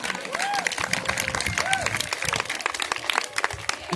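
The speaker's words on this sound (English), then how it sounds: "Give them a round of applause" A crowd at a chilli eating competition during Lowestoft Chilli Fest bursts into loud, sustained applause and cheering, with clapping throughout and a few voices calling out in the mix.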